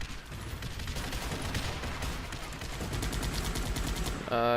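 Gunfire during a bombing run in the strategy game Guns Up! comes as dense, rapid bursts of shots that rattle on continuously at a moderate, somewhat distant level.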